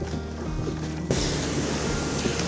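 Jiktang waterfall on the Hantan River in winter, heard up close from a floating bridge: a steady, broad roar of rushing water that swells a little partway through, with no voices.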